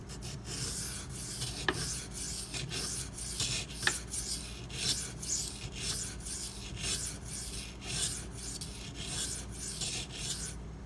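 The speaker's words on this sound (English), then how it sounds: "I'm going to start with 320 grit, get this chip ground out" Knife steel, a chipped Spyderco Dragonfly blade, is ground on a Shapton Pro 320 grit whetstone: steady, close rhythmic rasping strokes repeating about every half second, with a couple of sharper scrapes, and no talking.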